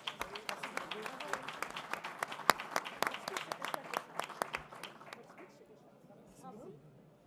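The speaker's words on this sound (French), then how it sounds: "je crois qu'on peut encore les applaudir" Audience applause for student prize winners at a 2025 energy-sufficiency competition awards ceremony: dense, sustained clapping with sharp individual claps, fading out over the last couple of seconds with faint murmuring.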